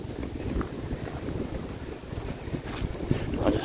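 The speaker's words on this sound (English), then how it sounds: "It's getting pretty windy." Strong wind roars steadily across the microphone outdoors in a cemetery, a constant low rumbling buffet with gusty swells and no voices.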